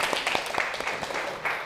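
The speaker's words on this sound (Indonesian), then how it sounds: "tepuk tangan untuk kalian semuanya yang hebat" Students in a classroom clap for one another at the end of a lesson, a brief, moderately faint spatter of hand claps with irregular rhythm and no talk over it.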